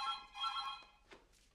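A telephone rings with a bright, trilling bell in two quick bursts, fairly close, then fades into a faint room sound with no talking over it.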